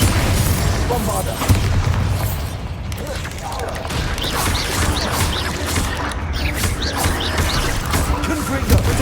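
Bombarda spell explosions go off during Hogwarts Legacy combat: dense, continuous battle noise with repeated deep booms and mechanical clatter, loud and close, with murmured voices mixed in.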